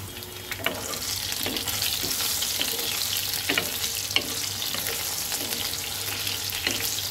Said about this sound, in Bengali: পটলটা আমি হালকা একটু তেলে ভেজে নেব।